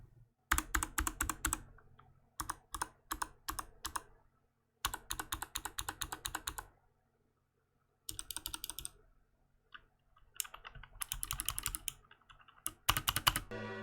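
Rapid bursts of typing on a Glorious GMMK Compact keyboard fitted with clicky Kailh Speed Bronze switches and ABS double-shot keycaps, crisp and close, in runs separated by short pauses.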